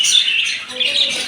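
Pet budgies chirp and squawk close by in a continuous busy stream of high, rapid twittering calls, with no talking.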